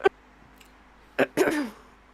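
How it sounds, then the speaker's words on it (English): A woman coughs close to the microphone, a single short hack followed by a longer rasping, throat-clearing cough that trails off, after a faint click and otherwise quiet background. "Mine right now would be coughing, like tons of coughing"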